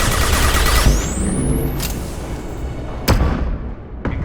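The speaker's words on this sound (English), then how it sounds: "Watch out, flashbangs!" Flashbang grenades going off in the Mass Effect 2 Shadow Broker mission, with sharp bursts over continuous rumbling battle noise, a rising whistle and two loud cracks near the end.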